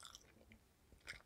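Quiet close-up chewing of a squid snack eaten with beer, with a few soft crunchy bites at the start and a louder crisp crunch near the end.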